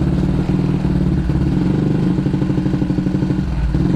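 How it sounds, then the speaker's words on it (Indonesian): A bored-up Honda PCX 160 scooter engine runs steadily while riding, a smooth, even mid-pitched drone with a deep bassy exhaust tone, close and continuous with no talking. "Dari suara mesin sih halus ya, normal kayak motor standar."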